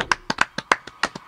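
Hands clap in a quick, uneven burst of about nine sharp, close claps, sounding like one or a few people giving a round of applause, with no talking over them.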